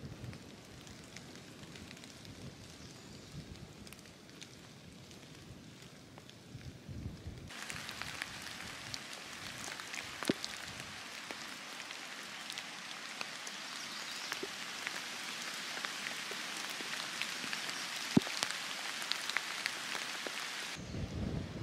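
A rain shower on the Appalachian Trail, heard as a soft, continuous hiss of drops that grows denser and louder partway through and then drops away near the end, with occasional individual taps standing out.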